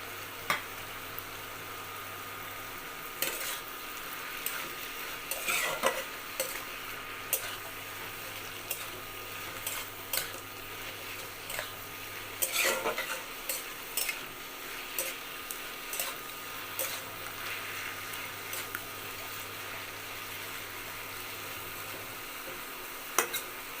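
Fried eggplant is stirred into a pan of greens, giving a soft, low sizzle punctuated by irregular spatula scrapes and clicks against the pan, with no one speaking.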